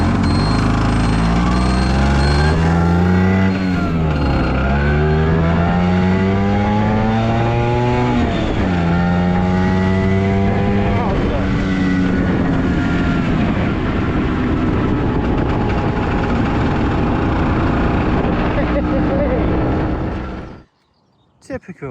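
Vespa scooter engine idling and revving to warm the block, a loud continuous two-stroke drone with rising and falling pitch sweeps, then cutting off abruptly near the end.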